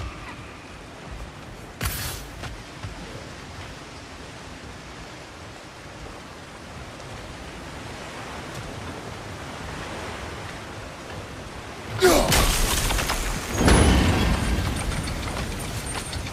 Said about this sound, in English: I'll wager we can redirect the water to get that wheel turning.